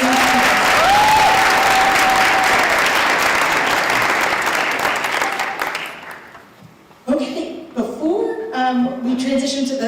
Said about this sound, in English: one big last round of applause for all of our amazing students